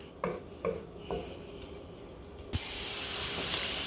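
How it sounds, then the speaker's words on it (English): Sofrito hits a hot pan in a Puerto Rican home kitchen, bursting into a loud steady sizzle after several light clinks and taps of utensils and cookware. "With 2 tablespoons of sofrito, and I'm just gonna fry this for a minute."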